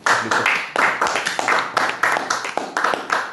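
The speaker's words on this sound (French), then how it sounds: "Applaudissons pour le frère Landreau." A church audience claps for a brother in a burst of individual hand claps that come and go in uneven waves, fairly close and lively, with no talk over them.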